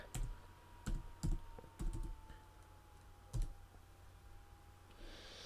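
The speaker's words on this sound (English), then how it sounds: "So I type in my app." Typing on a computer keyboard up close, a few separate clusters of sharp key clicks with short pauses between them, fairly quiet over a steady background hum.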